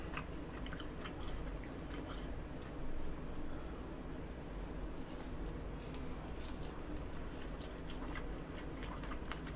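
Quiet, close-up chewing of rice cake that is crisp outside and chewy inside, with small crunchy bites and soft mouth sounds repeating steadily.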